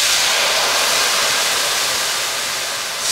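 Sherry wine poured into a hot sauté pan for a pork tenderloin with apple cider sauce, giving a loud, steady broadband sizzle and hiss that holds for the whole stretch with no talking.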